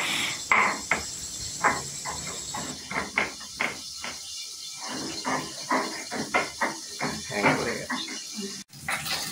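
Mustard spice paste being ground on a shil-nora grinding stone, a repeated rhythmic scraping of stone on stone, fairly close, while someone talks over it.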